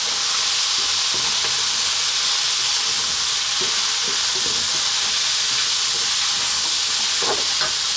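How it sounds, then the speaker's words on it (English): Chili, turmeric and cumin powder sizzle loudly in a hot pan while being stirred, a steady close frying hiss with scraping stirs throughout; no voices. "So we've got chili, turmeric and cumin powder, equal parts of. 1 quick mix."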